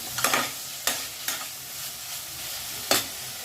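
A spoon stirs tomato gravy in a pan, giving a handful of sharp scraping strokes over a soft, constant sizzle of cooking, heard close up without any voices.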